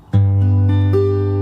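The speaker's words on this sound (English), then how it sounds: "we've got the finger roll on the first 3 strings and the 6th string" Fingerstyle acoustic guitar finger roll across the first three strings and the sixth string, a low bass note struck first then higher notes added in quick succession, all ringing together, close and clear without talk.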